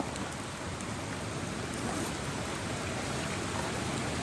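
Rain falls steadily on a creek running high and dirty, a dense, even hiss of drops on water, moderately loud and unbroken, with no voices.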